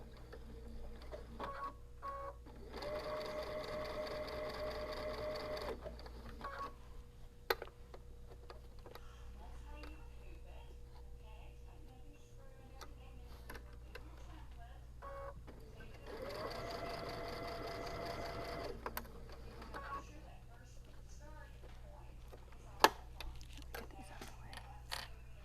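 A sewing machine stitches fabric for a roll-up organizer in two separate runs of rapid mechanical chatter, each a few seconds long, with quiet pauses and faint handling noises between them.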